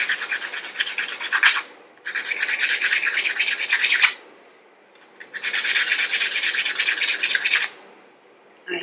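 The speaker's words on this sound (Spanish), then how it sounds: "para recortarla con la misma lima, lo cojo de lado grueso" A nail file, used on its coarse side, rasps steadily against fingernails being shaped square, in three long close-up bursts of scraping with short pauses between.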